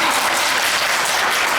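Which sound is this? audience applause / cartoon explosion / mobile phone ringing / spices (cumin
audience applause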